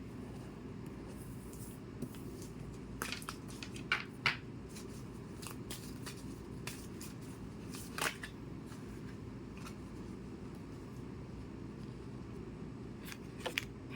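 Lenormand fortune-telling cards are handled and drawn, producing soft, sparse flicks and papery slides against a quiet background hum, with a few sharper snaps scattered across the stretch.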